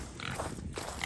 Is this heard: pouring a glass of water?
no